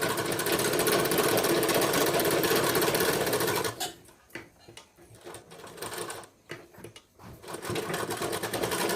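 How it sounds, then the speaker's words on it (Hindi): Domestic sewing machine running steadily as it stitches the edge strip of a blouse, a loud continuous whir for several seconds, then stopping and restarting in short bursts with pauses between. "यहाँ पे 2-3 सिलाई और चला देंगे"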